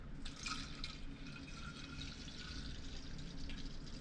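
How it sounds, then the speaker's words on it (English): Water running into a canteen being refilled indoors for houseplant watering, a steady close pouring and trickling hiss that holds evenly for a few seconds. "Refilling the canteen."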